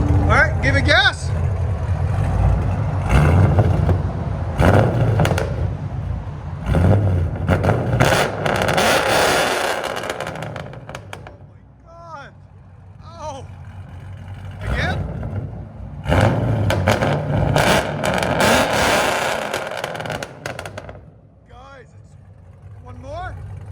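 Revving of a 2017 Chevy SS (Holden) with a 6.2L V8, headers and straight pipes, loud and close in repeated bursts, with people talking between and over the revs.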